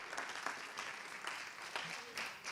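An audience at a John Jay College spoken-word event applauds after a poem, a dense burst of clapping with a few louder swells that carries on steadily throughout, with some voices mixed into the crowd.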